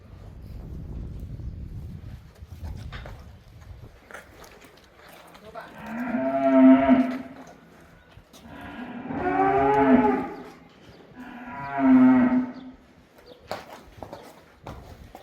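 Cattle mooing near a horse at a farm, three long, loud lowing calls spaced a few seconds apart, with soft hoof steps and shuffling between them.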